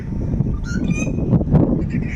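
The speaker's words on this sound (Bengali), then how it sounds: "ওই যে হাঁস টাইপের পরিযায়ী পাখি" Duck-like migratory birds call near a farmhouse resort outside Kolkata in the morning, a cluster of honking, nasal calls over a busy background.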